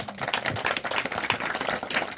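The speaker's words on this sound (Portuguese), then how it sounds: "Os irmãos podem aplaudir a palavra de Deus." Church congregation clapping during a thanksgiving service, a dense, steady patter of many hands filling the room with no voices over it.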